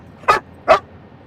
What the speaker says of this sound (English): people that are watching probably don't like you barking into the microphone